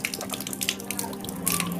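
Tap water runs and splashes steadily during wudu ablution, a continuous close wash of flowing water with small drips and splashes over a faint low hum.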